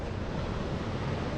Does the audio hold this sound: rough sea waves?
yes